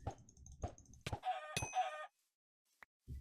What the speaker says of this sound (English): There's a chicken over there.